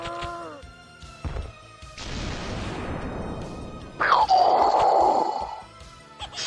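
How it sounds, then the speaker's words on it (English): Explosions in The House of the Dead arcade shooter: a heavy crash that rumbles and decays, then a second loud blast with a falling whine, among other game effects. "Explosion sounds."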